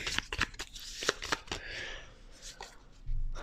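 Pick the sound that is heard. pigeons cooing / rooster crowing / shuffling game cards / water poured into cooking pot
shuffling game cards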